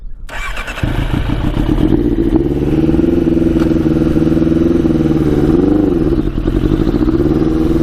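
The engine of a 100HP Yamaha Banshee quad starting and then idling with a steady, loud, rough two-stroke drone close by, with one brief blip of throttle.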